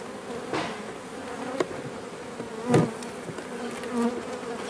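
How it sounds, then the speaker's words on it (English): Honeybees buzz in an open hive being prepared for amalgamation, with frames shaken into a box; a steady dense hum runs throughout, close and moderately loud, broken by a few soft knocks and bumps. "there's a fair number of bees there"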